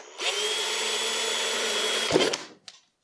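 A power drill bores a hole through the plastic lid of a filtration kit bucket. Its steady motor whine lasts about two seconds, then a short clatter follows as it stops.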